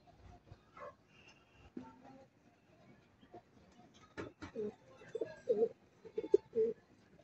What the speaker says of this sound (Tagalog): Ayan yung ating mga ibon, no.